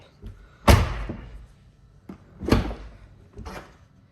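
A 2022 Tesla Model Y car door shuts with a solid, close thud, followed by two more heavy closing thumps, each separated by quiet pauses and lighter clicks.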